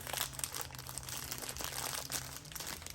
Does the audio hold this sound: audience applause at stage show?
no